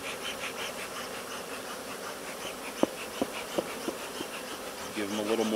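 Steady insect buzzing from many honey bees at a hive during an inspection fills the air, with a few sharp clicks and a louder rustle near the end.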